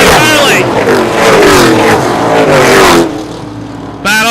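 Short track race cars roar past in a loud, continuous engine drone that rises and falls as they pass. A race commentator talks over it.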